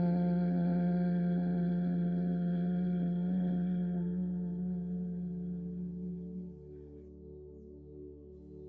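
A steady, low closed-lip hum on a long exhale during a calming breathing exercise, soft and continuous, gradually tapering off near the end.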